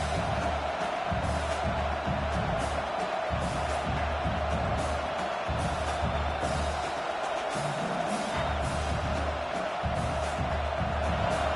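A large stadium crowd at a college football game roars continuously, loud and dense, with cheers and shouts swelling throughout.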